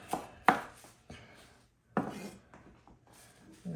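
Knife chopping parsley, stems and all, on a board for choripan: a few sharp, separate chops with quiet pauses and light scraping between them, close and fairly loud.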